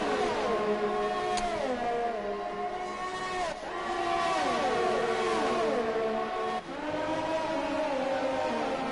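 Race car engines from a Formula racing video game at the Mexico and Canada rounds, several high-pitched engines howling and shifting gears in a loud, continuous stream as cars pass, with no talking.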